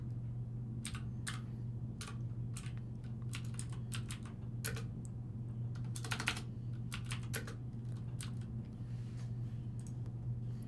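Quick, uneven bursts of typing on a computer keyboard, with light clacking keystrokes and occasional pauses over a constant low electrical hum, close and fairly quiet.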